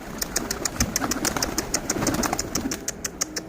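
Feral pigeons flock in to feed, their wings giving a rapid, regular series of soft flaps and pulses, fairly faint and close, with no talk over them.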